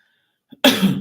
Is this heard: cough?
yes